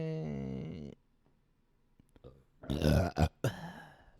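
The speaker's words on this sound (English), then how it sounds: "Oh, I just burped into my microphone." A single close burp into a microphone after a brief tone fades out, loud and guttural, followed by a couple of short voiced grunts right up against the mic.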